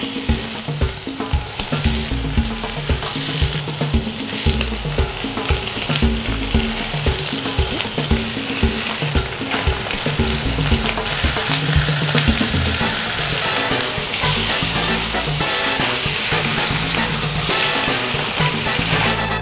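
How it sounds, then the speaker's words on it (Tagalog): Chicharon bulaklak frying in its own rendered fat, a loud, dense, continuous sizzle and crackle with steady popping throughout. "So yung magpiprito sa kanya is yung sarili niyang mantika."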